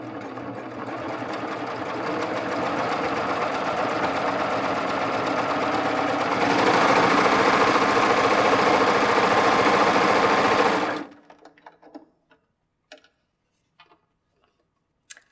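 Baby Lock serger stitches steadily with differential feed gathering fabric, a fast even mechanical whir that picks up speed partway through, then stops abruptly, leaving a few faint clicks and handling noises.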